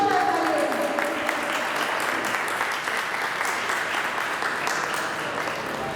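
Audience applause at a Gujarati tour group gathering, a dense steady roar of many hands clapping that holds loud for the whole stretch, with faint voices mixed in.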